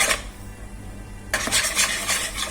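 A spoon stirs chiffon cake batter with flour in a bowl, making a close, continuous scraping and swishing that starts suddenly after a quieter moment and carries on to the end.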